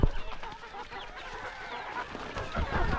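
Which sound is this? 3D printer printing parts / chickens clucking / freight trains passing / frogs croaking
chickens clucking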